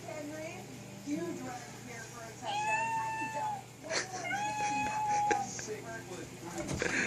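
Several drawn-out cat meows in a row from a smart speaker, loud and close, with a voice asking a question in between.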